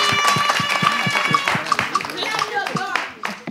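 Audience clapping at a live French game show, a brisk patter of applause with crowd noise and voices mixed in before it tails off.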